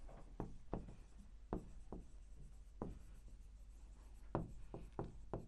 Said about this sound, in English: write the number name here